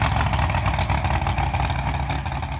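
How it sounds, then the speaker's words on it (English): Traxxas Craniac monster truck with a 572 cubic inch blown, alcohol-injected Chevy engine, roaring loud and close in a dense, continuous rasping engine note with slight rev fluctuations. "It's got a 572 cubic inch blown alcohol injected Chevy motor."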